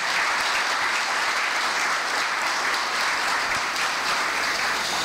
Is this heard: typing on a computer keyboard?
no